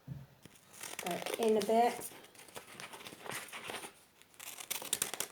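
Scissors cut a shape out of material, with a run of crisp snipping and crinkling close by while a person talks over the cutting.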